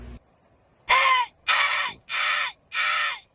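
A crow caws four times in a slow, evenly spaced series, each call harsh and fairly loud against a quiet background, heard alone without talk.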